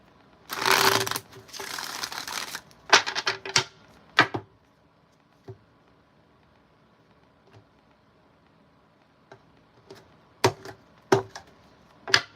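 Tarot cards being shuffled, a longer riffling burst at first, then scattered sharp snaps and taps of cards being handled and laid down, close and alone without talk.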